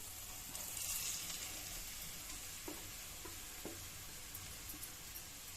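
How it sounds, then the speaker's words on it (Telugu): Quiet, continuous sizzling of ragi flour frying with onions in a pan, with a few soft scrapes and stirring clinks from a utensil, no voices. "వేసి దాన్ని బాగా రంగు వచ్చే వరకు వేపాలి."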